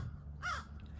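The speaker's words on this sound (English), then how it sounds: "I'm not talking to you, Crow." A crow gives a single harsh caw outdoors, moderately near, over a low steady background rumble, with no talking.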